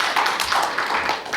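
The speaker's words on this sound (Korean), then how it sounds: "우리 큰 박수로 환영하겠습니다." Church congregation clapping to welcome visiting guests, a dense, fairly loud burst of many hands heard close by, brief and without speech.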